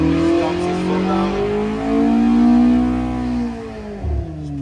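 A carbureted car engine on a dyno revs hard, its pitch climbing steadily and sustaining a loud, rising drone with no talk, then easing off near the end.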